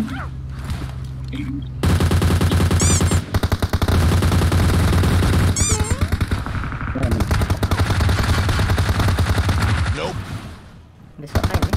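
Gunfire in PUBG Mobile, with dense bursts of automatic fire and repeated shots crackling loudly and continuously, under excited shouting in Indonesian from squad players.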